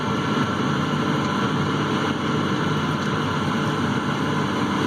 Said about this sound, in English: I was surprised how much it's working the tractor.